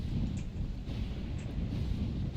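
A low, continuous rumble of thunder in the video game Shadow Over Ashdale rolls steadily throughout, with a hiss of rain or wind over it and no speech.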